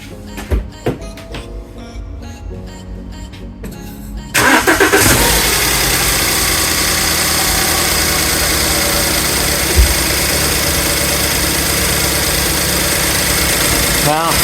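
A BMW 318i, after injector cleaning, cranks briefly and then fires into a loud, steady idle that runs on without a break, with a few clicks and faint handling noises before the start.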